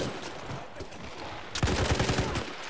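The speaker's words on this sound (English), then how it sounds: "I hear some gunshots." A rapid burst of Battlefield 1 gunfire erupts after a stretch of steady background noise, loud and sharp with repeated close-range shots.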